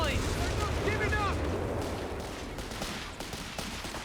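Artillery hits a building in Company of Heroes 3, a rolling wash of rumbling blasts and crackling debris that fades over a few seconds, with distant battle noise around it.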